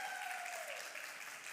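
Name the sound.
audience applause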